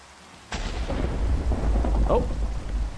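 Minecraft thunderstorm: a sudden loud thunderclap crashes in after a quiet moment, then a deep rolling rumble continues under steady rain hiss, close and heavy, with no voices.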